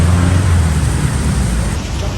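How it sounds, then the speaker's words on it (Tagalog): Dense, steady hiss of heavy rain pours down continuously, with a low rumble underneath like passing traffic. "ngayon naman sobrang lakas ng ulan"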